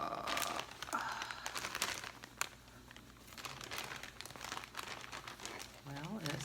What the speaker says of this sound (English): we're opening up Birdie's package